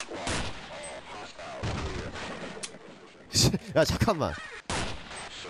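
Gunfire from a Half-Life mod video game: short bursts of shots crackle in the second half, with a voice talking between and over them.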